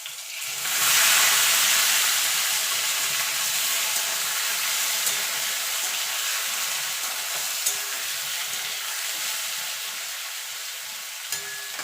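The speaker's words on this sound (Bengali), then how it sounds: "এই তেলে ইচড়গুলো ভেজে নেব।" Jackfruit pieces frying in hot oil, a loud continuous hissing sizzle close up, steady throughout with a couple of faint knocks.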